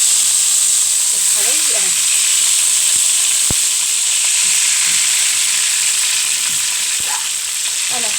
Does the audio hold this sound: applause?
no